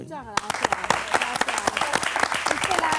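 A studio audience on a Spanish-language TV show breaks into applause right after a brief voice, with crisp, closely spaced claps continuing loudly to the end.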